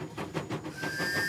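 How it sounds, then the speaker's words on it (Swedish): A train chugs in short rhythmic puffs, then a thin, steady whistle tone comes in and holds to the end. "Ah, ett tåg. Tut, tut, tåget."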